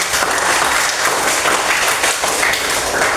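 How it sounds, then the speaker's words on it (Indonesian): A classroom of students claps for a classmate, a loud, dense burst of hand clapping close by that stays steady throughout with no pauses. "Tepuk tangan dulu sekali lagi si Glory."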